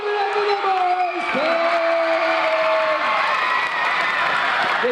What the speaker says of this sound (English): Give it up for the boys!